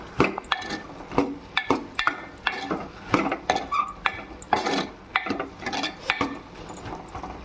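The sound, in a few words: stirring bottle gourd curry with a ladle in a pan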